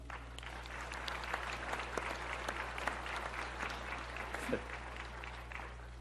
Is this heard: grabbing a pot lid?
no